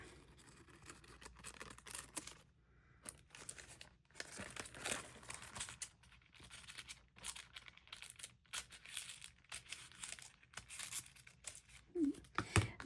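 Junk mail paper is cut and handled, giving irregular crinkling and rustling with crisp snips, close and quiet, ending in a few louder clatters.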